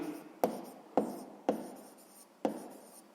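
Pen or pencil strokes on paper while working a sixth-grade math exercise, four quick scratching bursts spaced roughly half a second apart, soft and close, with no speech.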